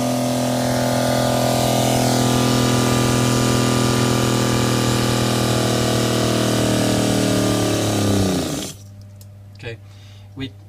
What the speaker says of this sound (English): We reached about 120, 130, and at that point the motor just stalled.